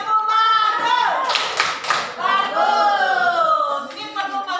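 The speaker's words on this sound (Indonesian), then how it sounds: "Tepuk bagus." A classroom group claps through the 'tepuk bagus' routine, a quick burst of rhythmic claps amid the teacher's and children's voices, close and loud.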